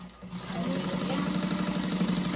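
A sewing machine runs a short back stitch on a bag, starting after a brief pause and then humming steadily and close for about two seconds.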